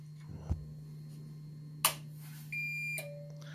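An APC voltage-regulating power line conditioner switched on, with two sharp switch clicks followed by a steady electronic beep that holds briefly, then a lower tone.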